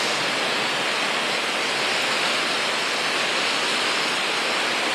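Loud, continuous roar of rushing floodwater overflowing during heavy rain, a dense unbroken close-up wash with no voices heard.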